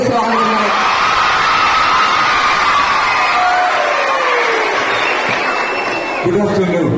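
School crowd of children at an event cheering, whooping and shouting loudly together to welcome actor Asif Ali, a dense sustained roar with some claps lost in the noise and a brief drop near the end.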